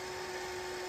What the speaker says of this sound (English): That's the wonderful sound of VHS rewinding.